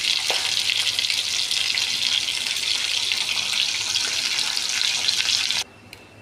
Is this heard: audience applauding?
no